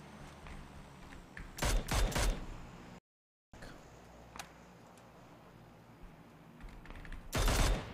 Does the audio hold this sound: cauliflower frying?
no